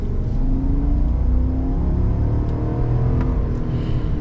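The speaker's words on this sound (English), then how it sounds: "we'll get our full-blown acceleration so you guys can hear what it sounds like" A naturally aspirated 2022 GMC Sierra AT4X pickup truck accelerates at full throttle, its engine holding a loud, continuous roar with rising harmonics throughout the few seconds, close to the listener.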